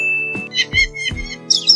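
A weaver bird calls in a run of short, bright chirps and tweets, opening with a thin sustained whistle and then several quick separate notes, fairly close and alone.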